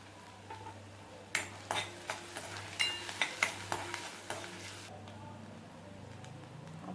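Chopped onion, garlic and green chilli stirred in a pan, a series of sharp clinking spatula strikes over a low steady sizzle and hum, fading back to quiet frying.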